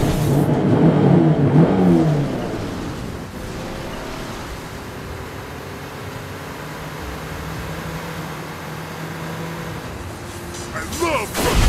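A hero's car in the Mobile Legends video game roars and revs as it accelerates, with a loud burst of engine noise at first that drops to a steady whirring drone, then swells again at the end amid game effects.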